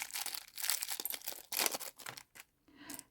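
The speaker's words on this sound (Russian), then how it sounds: "Вот в этом отдельном пакетике все заранее подготовила. Сейчас мы это все достанем." A small plastic packet crinkles and rustles in bursts as craft supplies for a crocheted teddy bear, such as safety eyes and a nose, are pulled out, close and fairly loud, pausing briefly near the end.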